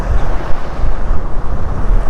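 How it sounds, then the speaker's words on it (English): Steady, loud wind roars and buffets across the microphone at a seaside spot near Davao City while waiting for the barge to Samal Island, with a low rumble and no voices. "It's a windy day today."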